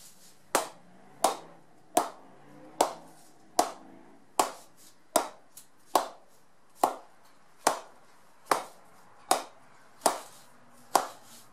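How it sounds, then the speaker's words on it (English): Jukes ball tapped repeatedly on the face of an AKS Pro cricket bat, about a dozen crisp, evenly spaced wooden knocks, each sharp and clear with a short ring, heard alone in a quiet room. "I'm going to put the jukes on it now and listen for the tone that you hear off the bat."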